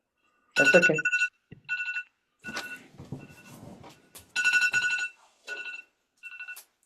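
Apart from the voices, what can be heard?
phone alarm ringing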